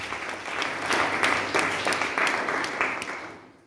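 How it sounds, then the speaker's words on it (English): An audience at a church ceremony honouring the Companions of the Little Flowers applauds steadily, with dense clapping that swells and then fades out near the end. "Let's applaud them and give them a great applause"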